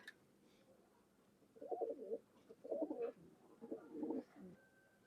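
An old-bloodline Khulna pigeon coos in three soft, separate rolling phrases, fairly faint against a quiet background.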